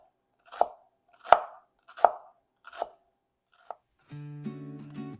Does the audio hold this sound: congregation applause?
no